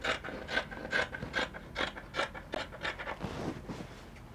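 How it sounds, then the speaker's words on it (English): Scissors snip through fabric in a quick, regular series of about ten close crisp cuts, each a short scratchy rasp, with no talk. "So I'm going to cut this part off."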